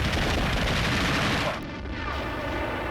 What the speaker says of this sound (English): Here we see a Waffen SS unit firing on Soviet mechanized troops trying to break out.